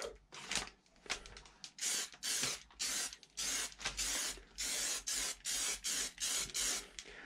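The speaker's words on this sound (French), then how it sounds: "Alors ça, c'est une bombe où on peut peindre directement dessus." Spray paint can applying paint to a wheel rim in repeated short bursts, a loud, close hiss sounding roughly every half second with brief gaps between, and no talking.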